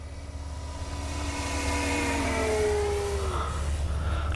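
Durafly FG-1 Corsair RC model plane with its electric motor run up to full throttle, a steady rising whine with a long pitch sweep as the plane passes, fairly close and sustained for a few seconds.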